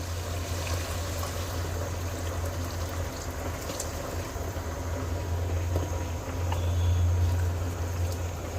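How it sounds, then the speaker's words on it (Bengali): Boiled water is poured into beef curry cooked with chui jhal, a steady, fairly quiet trickling stream running for several seconds over a low background hum, with no talking. "এবার আমি মাংস সিদ্ধের জন্য ফুটানো পানি দেব"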